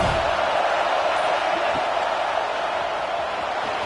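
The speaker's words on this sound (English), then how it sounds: "Decibels rising as the crowd gets behind this defense on 3rd down" A stadium crowd roars in a PS5 football video game on third down, a dense, steady, loud wash of cheering noise that holds throughout without pause.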